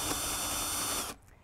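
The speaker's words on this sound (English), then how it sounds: "You're gonna drill into the top, find the center, and start drilling." An electric drill boring down into the top of a wooden stair baluster whines steadily and loudly at close range for about a second, then stops abruptly, leaving a quiet tail.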